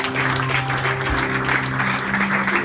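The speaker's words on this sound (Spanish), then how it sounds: "Dale un aplauso a Cristo." Church congregation applauding at a Bible institute graduation ceremony: steady, dense clapping fills the hall throughout, with sustained musical tones underneath and little talk.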